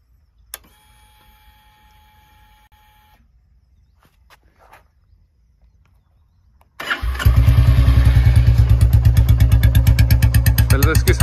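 A 2024 Royal Enfield Bullet standard BS7 fitted with a short bottle silencer and whistle sits quiet, then starts and settles into a loud, close idle with a steady, rapid thumping exhaust beat.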